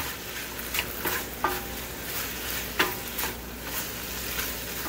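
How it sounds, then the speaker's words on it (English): Broccoli florets tumble into a hot pan of garlic beef, setting off a steady close sizzle with a few sharp clatters and scrapes as the pieces land and settle. "go ahead and add your little broccoli florets or crowns"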